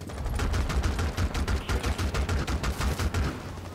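Rapid automatic gunfire in Rainbow Six Siege, a loud, sustained stream of close shots in quick, slightly uneven bursts with a deep thumping low end, running continuously through the moment.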